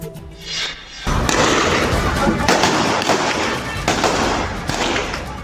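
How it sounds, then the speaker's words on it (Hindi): Indiscriminate gunfire by Pakistani Rangers in Mirpur, heard as a loud, continuous wall of crackling bursts and thuds that erupts suddenly after a quieter opening and keeps going, with faint voices mixed in. "पाकिस्तानी रेंजर्स की अंधाधुंध गोलीबारी।"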